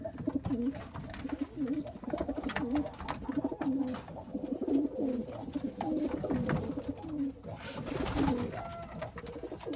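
A pigeon coos over and over at a close, even pace, its soft throaty calls repeating without pause.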